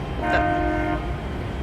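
A boat on a canal near the ocean sounds its horn once, a single tonal blast lasting under a second over a constant engine rumble, with no talk.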